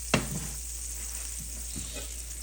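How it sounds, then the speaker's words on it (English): Butter melting in a pan over medium-high heat gives a steady, soft sizzle throughout, with a sharp clink near the start and a couple of faint stirring taps later, no talking. "medium-high heat. and we're gonna begin melting our butter."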